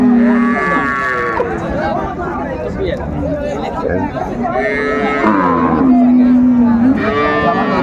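Dairy cows and calves lowing at the busy Raniganj cattle haat in Dinajpur, with repeated loud moos rising over constant crowd chatter and bargaining voices.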